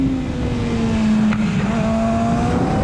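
A 2007 Yamaha R6 street bike with an aftermarket exhaust laps the Hockenheim racetrack, its engine holding a steady, high-revving drone throughout with no voices over it.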